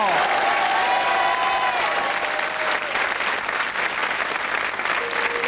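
A studio audience at the French TV show On a tout essayé applauds a singer in 2003, with full, sustained clapping filling the whole stretch. A faint musical tone rises and fades beneath the applause.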